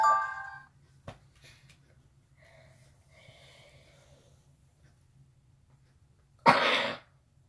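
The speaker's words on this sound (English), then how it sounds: "Apologies for the cough." A single harsh cough bursts out near the end, loud and close, after a quiet stretch with faint background game sounds and a short blip at the start.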